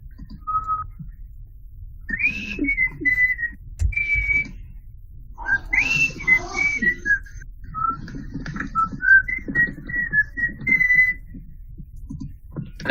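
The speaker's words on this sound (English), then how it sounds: "Have you heard what whistling sounds like over microphones?" Someone whistles the folk tune My Bonnie in clear, sustained melodic phrases with brief pauses, heard over a microphone against low background rumble.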